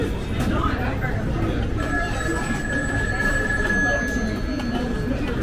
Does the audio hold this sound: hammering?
no